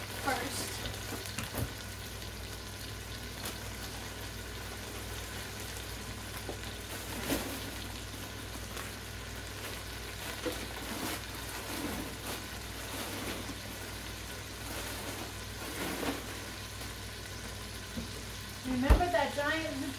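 Chopped zucchini from a giant squash sautés in a pan, giving a low, steady sizzle with occasional stirring clicks and a louder clatter near the end, while a person speaks faintly in the background.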